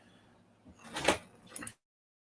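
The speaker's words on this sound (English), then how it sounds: "Back door." A back door opens or closes with a quick scrape and thump, then a second, shorter knock. The sound is soft to moderate and close by, in a quiet room.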